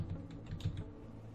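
Soft keystrokes on a computer keyboard tap out a short file label, a brief quiet run of clicks close to the mic with low hum underneath.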